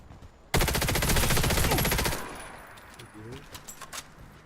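Video game gunfire, a loud burst of rapid automatic fire lasting about one and a half seconds, then quieter sporadic game sounds with voices talking.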